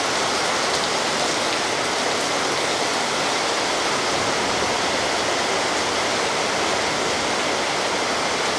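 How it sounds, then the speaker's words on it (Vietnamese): Rain pours steadily onto and around an outdoor camera in Vietnam, a dense, close hiss of spattering drops that holds evenly throughout with no voices. "trời mưa đó nó tạt vô cái máy"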